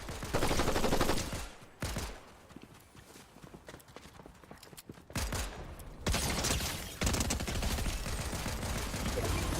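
Gunfire in the video game Fortnite: loud, dense bursts of rapid shots, then a quieter stretch of scattered cracks and rattles, then heavy firing again that keeps going to the end.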